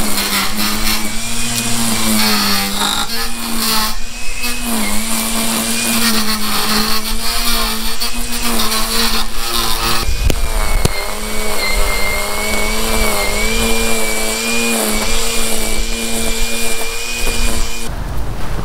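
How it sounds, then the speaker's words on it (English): A Ryobi 36v battery lawn mower spins up on its first run with a new blade, giving a loud steady high whine with shifting motor pitch that runs continuously, close by and with no talking. "I'll get the mower going and see what it looks like when I've done that."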